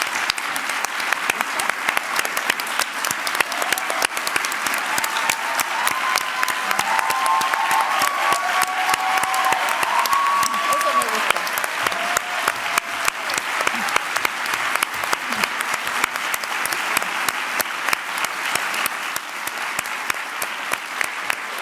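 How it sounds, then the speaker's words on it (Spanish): A lecture audience applauds steadily after a talk on feminism, a dense wash of many hands clapping that holds at an even level for about twenty seconds, with faint tonal whistles or cheers surfacing briefly in the middle. "El aplauso lo dice todo."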